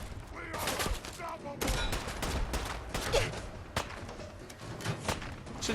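Gunfire from a gun in Fallout 4's Far Harbor, a series of sharp shots scattered irregularly through a steady background of game ambience.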